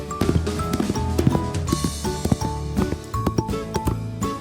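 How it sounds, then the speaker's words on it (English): A horse galloping, with a quick run of crisp clip-clop hoofbeats mixed under a bright, steady musical backing. "Neigh! It's a beautiful horse."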